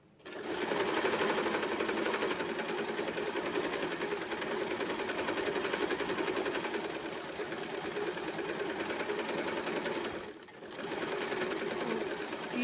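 Home sewing machine stitching fabric around in a round during tailoring practice, a close continuous whirring run of stitches that briefly cuts out near the end, then resumes.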